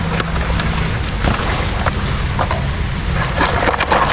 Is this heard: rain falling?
yes